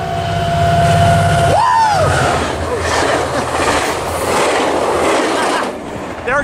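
A BNSF freight train with a power consist of two genset locomotives races past without stopping, loud and close, a steady rumble of rolling wagons and clattering wheels with a brief squeal near the start.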